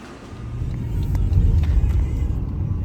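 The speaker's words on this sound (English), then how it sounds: "I'm driving to my other property" A car drives along a road, heard as a steady, close, low rumble with a gentle swell in the middle and no break throughout.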